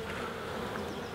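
Honey bees buzz steadily around a hive frame lifted from a colony in a UK apiary, a dense, continuous close drone with no talk.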